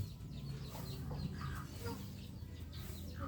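Chickens cluck faintly at a rural Thai house, a low murmur of scattered bird calls over a steady background rumble.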